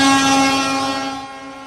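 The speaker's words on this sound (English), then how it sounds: "Honks hyping up union members of the International Association of Machinists and Aerospace Workers District 837." Car horns honk in support of striking Boeing machinists from IAM District 837, a loud sustained horn tone starting strong and slowly fading over its short length.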